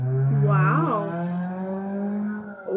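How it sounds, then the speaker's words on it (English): A motorcycle roars past on a road, its engine pitch swelling and sliding as it speeds by, then a steady drone lingers as it recedes. "Sounds like a motorcycle."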